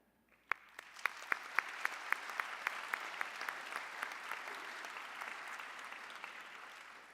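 Applause for graduates at a George Brown College convocation ceremony for the classes of 2020 and 2021. A large crowd claps steadily, with a few sharp, distinct claps at the start before it thickens into a sustained, even roar that slowly thins out.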